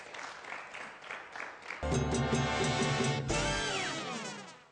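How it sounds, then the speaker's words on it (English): An audience applauds guests at a talk or panel event, with sustained, dense clapping throughout. There may be a faint tonal sound partway through, and a little crowd noise underneath. "A round of applause for our guests."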